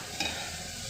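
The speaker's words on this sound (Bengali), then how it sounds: "দিয়ে এবার ভালো করে কষাতে হবে, যতক্ষণ না তেল ছাড়বে ততক্ষণ ভালো করে কষাতে হবে।" Ginger, garlic and cumin paste is stirred and fried in oil for a pangas fish curry, a soft continuous sizzle with a brief scrape of stirring near the start.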